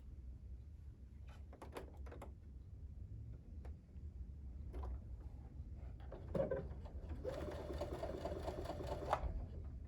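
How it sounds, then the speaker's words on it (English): A sewing machine stitches two pieces of fabric together with a quarter-inch seam, quiet intermittent bursts of whirring and clicking, ending in a steadier louder run of stitching. "I'm just going to sew these together with a 1/4 inch seam"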